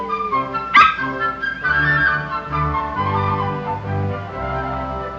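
A dog yips, barks and whimpers excitedly during a game of fetch, with a sharp bark near the start and then a run of eager whines and yelps, close and fairly loud, with no talk.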